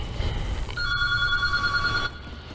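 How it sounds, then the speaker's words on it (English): A mobile phone rings once, close by, with a bright electronic trill lasting over a second, heard alone over faint background hum. "And there's my phone ringing"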